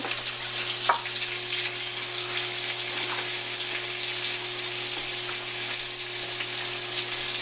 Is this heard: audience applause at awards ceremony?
no